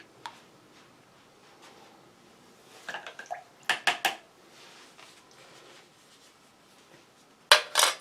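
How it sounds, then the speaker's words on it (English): A spoon stirs soup in a metal pot from a British Army ration meal, making quiet, sparse clinks and scrapes that bunch into a few brisk clusters midway and again at the end. "so I'll just give that another final stir"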